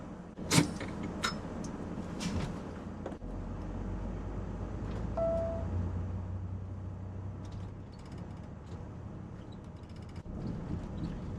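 A vehicle with an Allison B500 automatic transmission driving with warmed-up fluid, heard as a low engine drone and road rumble. The engine note steps through smooth gear changes, with a few brief knocks and rattles near the start.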